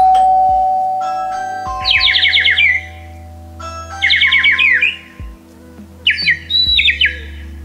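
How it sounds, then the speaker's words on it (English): An Amazon Echo Flex sounds three bursts of a doorbell chime alert, each a quick rising-and-falling cluster of bright tones, spaced apart over steady low hum; no talking. "The Flex will now alert me when someone presses the doorbell."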